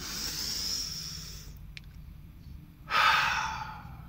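A single deep breath drawn in through the nose, a soft hiss that swells and then cuts off, followed by a brief quiet and a second stronger airy rush near the end.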